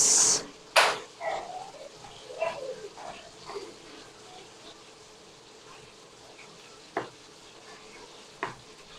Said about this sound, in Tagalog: habang ako ay nagpiprito, habang naantay na maduto yung isda